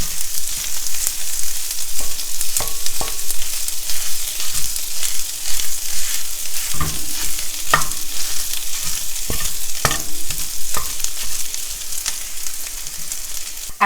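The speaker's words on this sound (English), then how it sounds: "break them down a little bit more and get them crispy and cooked through on all sides" Vegan pork crumbles sizzle and crisp in a pan, a loud continuous fry punctuated by scattered scrapes and taps of a utensil breaking them apart.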